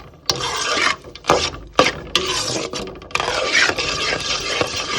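A spoon scrapes and stirs tamarind solution into oil in a pan while making Andhra-style temple puliyodharai, giving loud, rough rasping strokes with short breaks between them and no talk.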